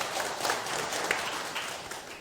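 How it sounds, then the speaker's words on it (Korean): A short burst of scattered clapping from an audience, fairly quiet and even, fading slightly toward the end. "박수 한번 쳐주세요."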